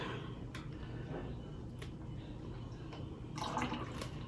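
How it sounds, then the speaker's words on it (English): Milk (2%) poured into a jar for milk kefir: a soft, steady liquid wash over faint room noise, swelling into a slightly louder splash near the end. "add in the milk"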